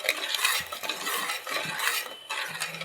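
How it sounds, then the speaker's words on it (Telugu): Spoon stirring Mysore pak batter of gram flour, sugar and ghee in a pan, with repeated scraping and soft sizzling strokes at close range, steady throughout. "అట్లా కలుపుతూనే ఉండాలి."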